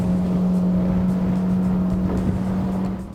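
Verga Sestante 6.8 motor boat driven by a Suzuki 150 hp outboard, a steady loud droning engine hum with a strong constant tone, running at speed without change until easing slightly at the very end.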